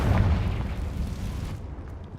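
A Confringo fire spell explosion in Hogwarts Legacy lands as a loud, deep boom with a rumbling tail that fades away after about a second and a half.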